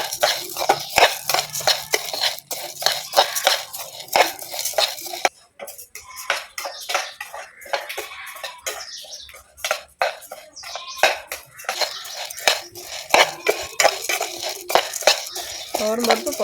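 Toor dal being dry-roasted in a pan for sambar powder, with steady scraping, stirring and light rattling of lentils against metal, close and moderately loud, pausing briefly midway.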